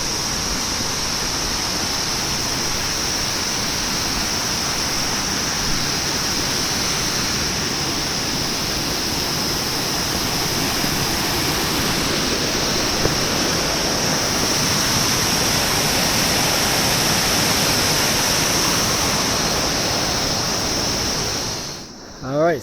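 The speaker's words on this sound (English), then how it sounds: "Well, I'm gonna wait until we get past this waterfall." A waterfall on the Poon Hill trek roars as a loud, unbroken wash of rushing water, close and constant, ending in a brief knock.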